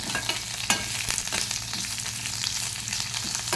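Mustard seeds, cumin, urad dal and ginger pieces fry in hot oil in a pan, giving a close, steady sizzle with scattered crackles and pops and light stirring scrapes throughout.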